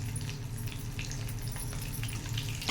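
Green chillies, cumin seeds and dried red chillies frying in hot oil, a steady soft sizzle and crackle heard close up with no talking.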